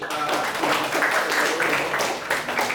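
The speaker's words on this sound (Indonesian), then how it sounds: "beri tepuk tangan untuk" Secondary-school students in a classroom session on tax awareness clap briefly, a busy, close patter of hands mixed with murmuring voices.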